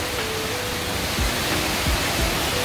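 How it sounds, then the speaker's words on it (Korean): Water from a waterfall pours down inside Hwanseon Cave in Samcheok, a steady broadband rush that fills the whole stretch with a few low thumps underneath, constant and fairly close with no voices. "저 위에서 폭포가 내려와가지고요"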